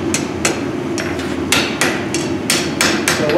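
A hammer strikes hot iron on an anvil while a horseshoe trivet is forged, giving about ten sharp, ringing blows in an uneven rhythm, close and loud against a low steady hum, with no talking.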